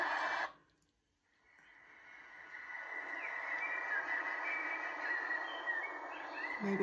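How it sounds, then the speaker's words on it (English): Woodland birdsong soundscape played through a Mudita sleep clock speaker, with steady chirps and tweets over a soft, continuous background that fades in after a brief quiet gap and carries on without talk. "I hear some birds."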